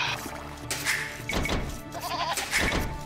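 Sheep in a real-time strategy game bleat several times in quick succession, fairly clear and close over light game sounds.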